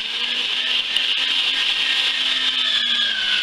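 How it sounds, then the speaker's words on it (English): A meat mincer grinds venison with pork back fat in a steady, close, continuous whirring drone with no breaks and no talking. "we are going to send it through the mincer again, you know, on a coarse plate"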